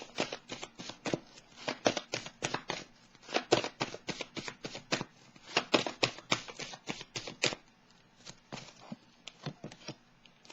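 Tarot cards riffled and shuffled by hand, a rapid run of crisp papery flicks and slaps in quick bursts, close up, then a short pause and a few lighter taps as cards are drawn.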